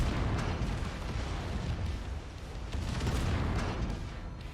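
Mech weapons pound a turret in MechWarrior 5: Mercenaries, a dense, continuous barrage of booming cannon and explosion rumble that stays loud throughout with no talk.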